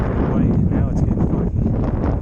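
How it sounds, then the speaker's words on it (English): Strong, steady wind roars across a stormy mountain trail where fog is rolling in and trees are caked in ice, a dense, constant rush with low buffeting on the microphone and little letup. "the wind keeps getting stronger"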